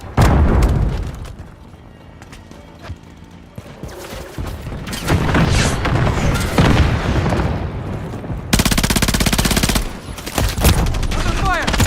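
Bursts of rapid automatic gunfire and heavy booms fill a firefight in the video game Wuthering Waves, loud and continuous, with short pauses and voices calling out in the mix.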